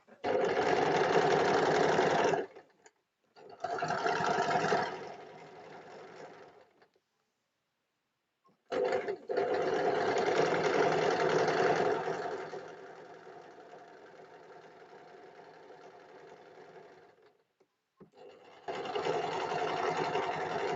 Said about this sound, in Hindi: किनारे पे सिलाई लगाते हुए हमें अच्छे से इसे अटैच करना है।